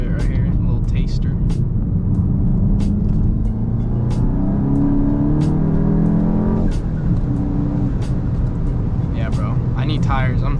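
A VW Mk8 GTI fitted with a K&N drop-in air filter accelerates at part throttle on a hot day, engine note rising steadily through a gear and dropping at a shift, loud and close under a person talking.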